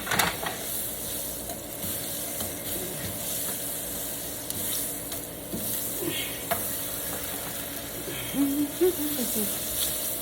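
Sliced potatoes fry in bacon grease in a pan on the stove, giving a steady, close sizzle with soft crackles and occasional scraping stirs throughout.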